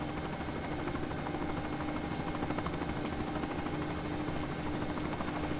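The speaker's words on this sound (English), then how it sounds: "Nothing to see here, helicopters." A helicopter in Farming Simulator 17 flies overhead, a steady close rotor drone that stays loud and even with no talking.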